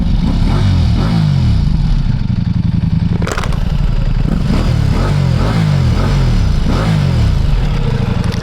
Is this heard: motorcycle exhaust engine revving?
yes